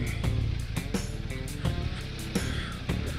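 A 2021 BMW R 1250 RT motorcycle's exhaust rumbles low and close through its muffler, with a steady throb punctuated by regular sharp pulses, over a breezy outdoor background.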